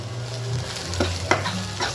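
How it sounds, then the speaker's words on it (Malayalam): Chilies and other ingredients stir-frying in a pan for a broccoli salad, a continuous sizzle with a few scraping stirs of a spoon, close and loud with no talk. "നമുക്ക് എല്ലാം കൂടെ മിക്സ് ചെയ്ത് നന്നായിട്ട് വഴറ്റാം"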